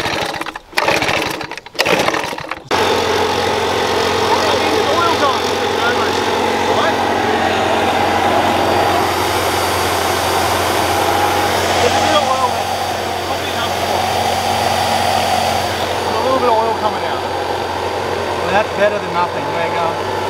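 After a few sharp pull-start bursts, a homemade GT45 turbo barrel engine settles into a steady, loud running drone that holds for the rest of the clip while people talk nearby.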